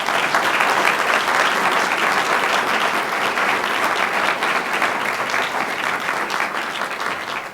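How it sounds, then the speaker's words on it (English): An audience at a county school board meeting claps in sustained, even applause for a middle school Battle of the Books team, dense and fairly close, easing off slightly toward the end. "Let's give this team a round of applause."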